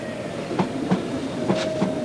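A steam train rolls along the rails with a steady rumble and rhythmic clickety-clack of big wheels over joints, fairly close and continuous.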